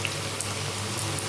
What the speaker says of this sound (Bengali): এইভাবে যে কটা যায় আমি দিয়ে ভেজে নেব